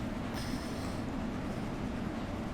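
A train in Train Sim World 2 running at speed, a continuous low rumble of wheels and motor with a faint high squeal early on, steady and close.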